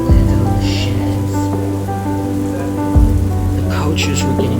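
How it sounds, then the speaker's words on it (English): Steady heavy rainfall drums continuously on shed roofs, with a low, tonal music bed underneath and a brief swell near the end. "And heavy rain landed on the sheds."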